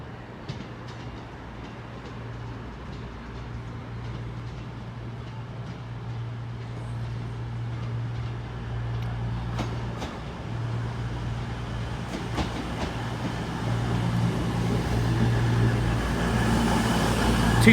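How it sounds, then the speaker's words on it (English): A train sits at Paignton station, heard as a steady low diesel rumble with a constant hum and faint clanks, growing slightly louder over the stretch, with no talk. "And this will be my train back to Exeter as well."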